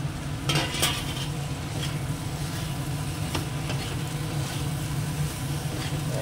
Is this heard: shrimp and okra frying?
yes